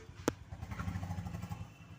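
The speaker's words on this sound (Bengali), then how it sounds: "এখন ও বাইরেই বাইকটা রাখবে" A motorcycle idles close by outside on a rainy day as it arrives to be parked, with a sharp clank at the start and an uneven low engine rumble afterward.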